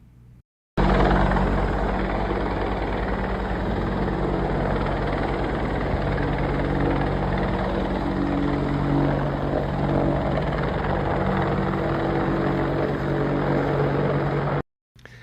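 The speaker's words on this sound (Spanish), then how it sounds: "Son 2 helicópteros Black Hawk, Apaches" Two army helicopters, a Black Hawk and an Apache, fly overhead with a loud, continuous rotor drone and deep thumping engine hum, steady for about fourteen seconds between brief cuts.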